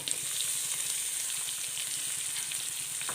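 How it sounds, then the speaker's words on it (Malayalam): Chopped onion sizzles in a pan with cumin and garlic for a bitter gourd dish, a steady close hiss and crackle with no talking over it. "ജീരകം വെളുത്തുള്ളിയൊക്കെ മൂത്ത് വന്നു അപ്പോൾ ഒരു സവാള അരിഞ്ഞത് ഒരു ചെറിയ സവാള അരിഞ്ഞതാണ് അതിട്ട് കൊടുക്കാം"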